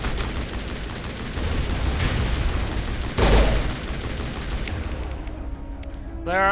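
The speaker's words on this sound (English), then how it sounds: "Throw a grenade." A grenade blast and gunfire from a video game ring out over a dense, steady roar of battle noise. One heavy boom stands out midway. Near the end the noise drops away into quieter electronic tones.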